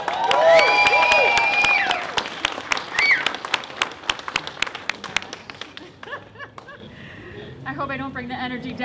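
A school-choice rally crowd for the Danbury Charter School applauds loudly for a state representative, dense clapping and cheering that thins into scattered claps, then a voice speaks near the end.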